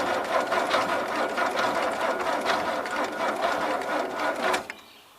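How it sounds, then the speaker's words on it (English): A 1977 Gravely GMT 900 tractor engine cranks over on the starter, a rapid, even mechanical chatter at close range that runs for several seconds before cutting off. "I just wanted to make sure this motor would spin over halfway decent"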